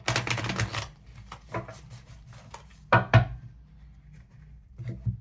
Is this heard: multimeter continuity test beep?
no